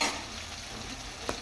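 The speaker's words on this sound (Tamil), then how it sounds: "கொஞ்சோண்டு இஞ்சி பூண்டு பேஸ்ட்டு கொஞ்சமாக போட்டுக்கலாம். போட்டுக்கிட்டு அது வதங்கட்ட பச்சை வாடை போகிற அளவுக்கு" Ginger garlic paste frying in hot oil for veg kurma, a brief steady sizzle with one small scrape of stirring near the end, no voices.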